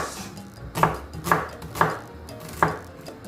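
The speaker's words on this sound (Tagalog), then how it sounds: "Sinihiwa ko lang ating sibuyas." A knife chops through onion on a board in four distinct, sharp strikes at an irregular pace, close and fairly loud, with no talking.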